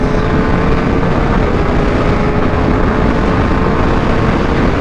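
A 2022 Ducati Streetfighter V2 motorcycle lapping the Monteblanco track produces a steady loud engine roar blended with heavy wind rush, constant and close.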